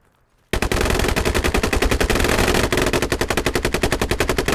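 Sustained automatic gunfire in the military shooter game Squad, laying down covering fire near a forward operating base: after a brief quiet start, rapid loud bursts rattle continuously and densely for several seconds, close and dominant, with no speech.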